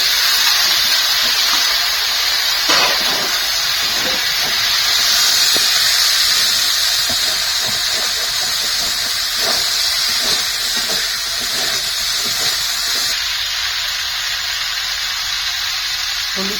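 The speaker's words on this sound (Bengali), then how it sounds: "এবার আলুটা দিয়ে দেবো একটু ভেজে নেবো" Potatoes frying in a pan of hot oil for luchi and ghugni, giving a steady loud sizzle and hiss throughout with faint scrapes and clinks.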